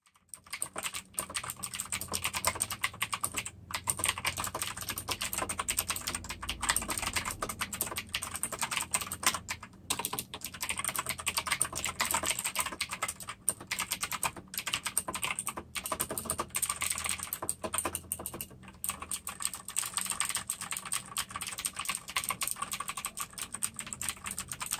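Continuous typing on a Cooler Master CK550 mechanical keyboard with Gateron Blue switches, a dense, close run of clicky keystrokes with a few brief pauses throughout.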